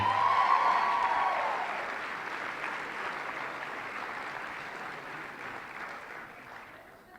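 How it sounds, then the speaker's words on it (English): Sustained audience applause at a sports awards ceremony for women's soccer honorees, loud at first then slowly fading over several seconds, a dense crowd clapping with a brief cheer near the start. "one more round of applause for your women's soccer honorees"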